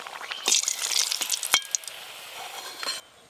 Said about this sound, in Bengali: এই দেখুন একটা পিঠে সুন্দরভাবে ভাজা হয়ে গেল